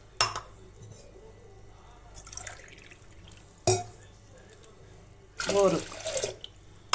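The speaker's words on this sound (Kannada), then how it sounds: "ಅದೇ ಗ್ಲಾಸಲ್ಲಿ 3 ಗ್ಲಾಸು ನೀರನ್ನು ಹಾಕ್ತಾಯಿದ್ದೀನಿ ಕುಕ್ಕರ್ಗೆ" Water is poured from a glass into a pressure cooker for a chakkali recipe in several short, splashy bursts separated by quiet gaps, while a voice counts along softly.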